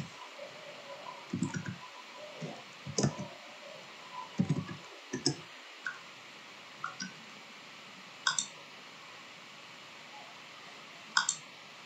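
Computer keyboard keys clicked in short irregular bursts while a search keyword is typed, light close taps separated by pauses over a faint background hum.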